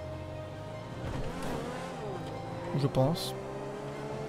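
Boosted full-performance add-on car driving in GTA V, its engine drone steady and close throughout with a brief louder burst near the end, while someone talks over it.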